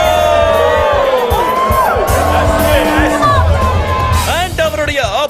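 A fight crowd in a large arena roars with steady cheering, whoops and shouts, a dense wall of noise that swells throughout as a fighter is about to come out, with a few raised voices popping above the din.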